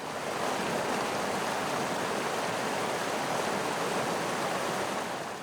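Rushing mountain river in the Andes, a steady, loud broadband roar of water with no breaks or voices, constant from start to finish.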